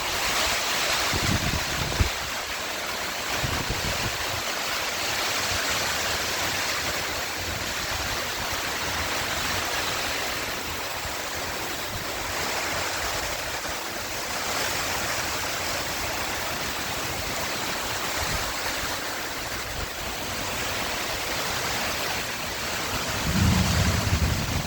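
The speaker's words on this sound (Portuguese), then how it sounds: "É uma chuva potente. Vai encher a represa, hein?" Heavy rain pours down in a powerful storm near the Ibiúna reservoir in Mairinque, a steady dense roar of water that holds for the whole stretch with no voices.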